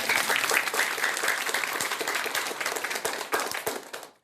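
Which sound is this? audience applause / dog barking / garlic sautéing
audience applause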